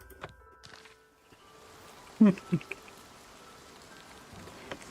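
Rain falls as ambient weather in the video game Oblivion Remastered, a soft steady patter throughout with a few sharper nearby taps and faint footsteps.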